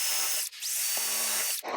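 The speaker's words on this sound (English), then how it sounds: "so I'm going to drill pilot holes." A power drill drilling pilot holes in wood whirs in two short bursts separated by a brief pause, loud and close, with a high motor whine.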